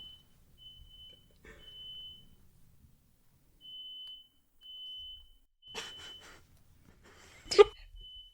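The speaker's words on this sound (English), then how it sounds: "the smoke alarm is going off" A smoke alarm chirps in thin, repeated high beeps in a quiet room, with several short bursts spaced across the clip and some brief noises and voices in between.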